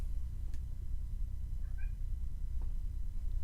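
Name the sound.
cat meowing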